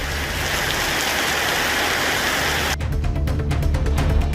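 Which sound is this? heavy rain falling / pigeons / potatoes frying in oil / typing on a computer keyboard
heavy rain falling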